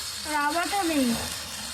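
Chicken sizzling as it fries in a pan with turmeric and spices, a steady close hiss and crackle of hot oil, with a voice briefly sounding over the frying.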